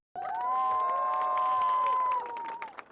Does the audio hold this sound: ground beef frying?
no